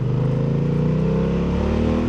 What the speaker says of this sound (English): that exhaust note of this better than the XR